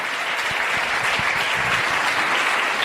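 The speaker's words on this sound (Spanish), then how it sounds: "Dale un fuerte aplauso al Señor en esta tarde." A church congregation gives a loud round of applause to the Lord during a Spanish-language sermon, dense steady clapping heard close and alone.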